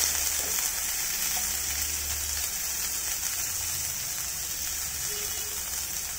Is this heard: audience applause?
no